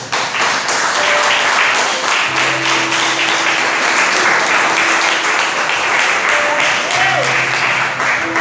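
Church congregation applauding during a Brazilian sermon, sustained loud crowd clapping with voices and a faint tonal hum mixed underneath, continuous throughout.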